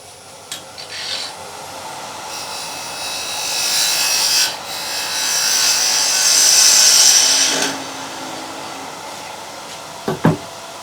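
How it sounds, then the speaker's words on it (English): Spindle gouge cleaning up the untidy edge of a turned wooden box on a lathe, giving a rising and falling hissing scrape of cutting, with a few small knocks before and after. "the first job is just to clean that untidy edge with the spindle gouge"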